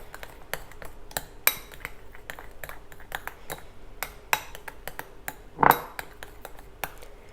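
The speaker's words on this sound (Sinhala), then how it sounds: "දැන් අපි මේ ටික මුලින් හොඳින් කලවම් කරගන්න ඕනේ." Light metallic clinks and taps of a utensil against a glass container while vitamin C serum ingredients are stirred together, quiet and irregular, with one sharper ring near the end.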